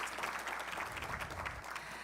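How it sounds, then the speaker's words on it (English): A crowd at a public remarks event applauds, a steady, fairly loud wash of many hands clapping that continues throughout the brief stretch. "So give Mark a big round of applause."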